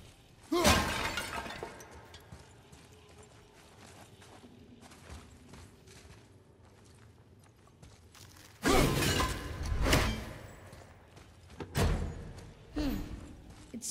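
Breakable objects smashed apart in the PS4 action game God of War: a sharp shattering crash early on, then a long, louder burst of breaking debris and two further thumping smashes, all over a low game ambience with no talking.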